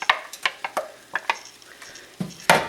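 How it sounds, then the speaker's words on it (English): Hamburger and onion fry in a pan while a utensil stirs and scrapes them, with sharp, irregular clicks and scrapes over a faint sizzle, close and alone. "I'm going to stir that together and let it continue cooking until the hamburger is no longer pink"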